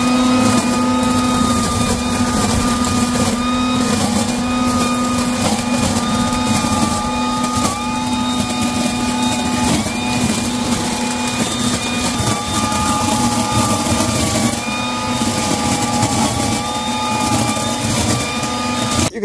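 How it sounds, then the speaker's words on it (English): A Ryobi 40-volt cordless blower vacuum runs continuously and loudly up close, with a steady motor whine and a rushing airflow roar that varies slightly in pitch throughout. "this Ryobi tool, it sucks and it blows"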